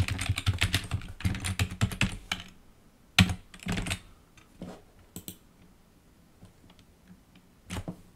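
Someone types a password on a computer keyboard while setting up a Linksys EA6350 router, close up: a fast burst of key clicks, then sparser single taps and short clusters with pauses between them, and no talking.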